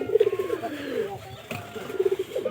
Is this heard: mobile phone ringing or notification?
no